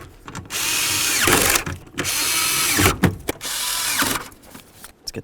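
A power driver snugs up bolts on a 1998–2011 Ford Ranger during a multi-function switch replacement: three sustained whirring runs about a second each, separated by short clicks and handling noises, close and loud with no talk.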